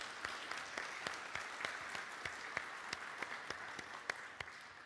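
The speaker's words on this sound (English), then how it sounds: "So maybe we can do a big round of applause for actually getting all of us here to this event." A large conference audience at a summit applauds steadily, a dense wash of distant clapping with a few sharper individual claps standing out, fairly faint and continuous throughout.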